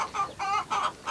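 Young chickens cluck near at hand in three short, separate calls spaced evenly over a second, with no voices.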